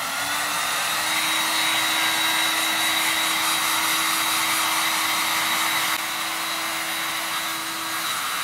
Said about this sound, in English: Okay, so I'm just gonna take my heat gun.